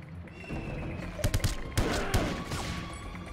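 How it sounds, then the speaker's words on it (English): Enemy gunfire in the game 007 Everything or Nothing cracks out in short bursts of several sharp shots over a low background, with someone talking in between. "Getting shot at by people I can't even freaking see"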